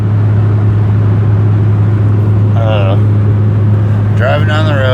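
Steady low road rumble of a car driving down the road, with constant engine and tire hum filling the background while someone talks briefly over it.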